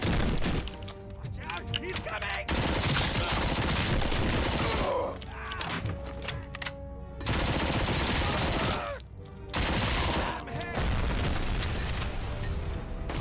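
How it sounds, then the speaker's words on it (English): Gunfire in a video game, with loud sustained bursts of rapid shots and booms broken by brief pauses, while voices speak in places. "Stop shooting your friend."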